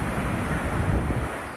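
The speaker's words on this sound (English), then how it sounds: "Within 20 minutes, a rush of waves hit the tiny island nation." Ocean waves surging after the Tonga volcano eruption, a rough, continuous rushing roar with wind buffeting the microphone, loud and unbroken for under two seconds.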